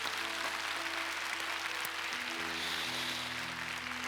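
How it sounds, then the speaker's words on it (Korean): A church congregation at an evening evangelistic festival gives celebratory applause: a steady, even wash of many hands clapping, faint and distant, with no voices standing out. "우리 한 번 더 함께해 주신 모든 분들께 우리 축하의 박수 하겠습니다"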